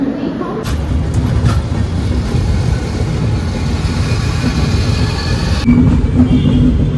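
The Mumbai Gitanjali Express pulls out of Nagpur with a continuous low rumble of a moving train, a few sharp clanks early on and a brief change in tone near the end.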